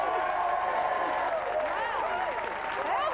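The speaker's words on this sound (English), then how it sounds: "Let's have a big round of applause." A studio audience claps in a sustained, dense burst of applause with some crowd noise mixed in.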